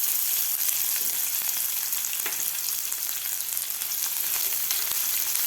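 Chopped onion sizzling and frying steadily in a pan with hot oil and peanuts for a Maharashtrian jowar flour ukadpendi, a continuous dense crackle with small pops throughout, close and even, no voices.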